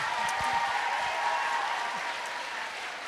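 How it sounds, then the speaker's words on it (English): Students at a middle school assembly applaud their school's namesake, Carla Peperzak, with steady, dense clapping from a large crowd that holds evenly for a few seconds, a few faint voices underneath. "Give a round of applause for Carla."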